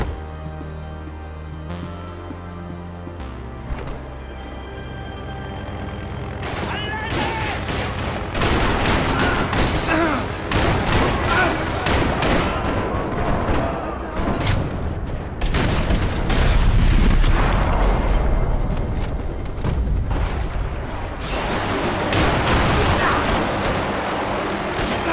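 Dense, sustained gunfire in the Max Payne 3 shooter: rapid overlapping shots and booms build after a quieter musical opening and continue loudly to the end.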